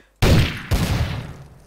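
Gunfire in the video game Garry's Mod, Trouble in Terrorist Town mode: a loud burst of shots begins abruptly, followed by a second strong crack and a dense, sustained rattle of fire that fades slowly.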